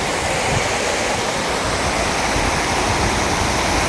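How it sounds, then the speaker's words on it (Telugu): Floodwater from the Upper Manair river rushes past after heavy rains, a loud, steady, broadband roar of flowing water with no voices. "మానేరు నుంచి వెళ్తున్నటువంటి వాటరు"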